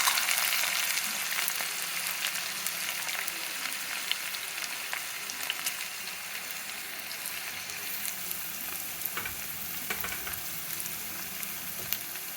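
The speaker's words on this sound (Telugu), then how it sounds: "ఉల్లిపాయలు, ఉల్లిపాయలు ఎర్రగా వేగాలండి." Onions fry in a pan for malai kofta curry, giving a steady, dense sizzle that runs without a break, close and fairly loud, with occasional stirring scrapes.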